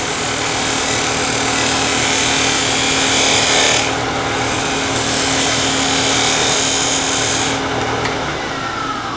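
Steel bowl scraper smoothing the inside of a turned wooden bowl, a steady continuous rasping scrape held close and loud for the whole stretch, with slight surges and brief lulls in pressure.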